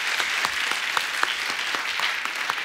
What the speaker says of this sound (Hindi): और एक बार जोरदार तालियां हो जाएं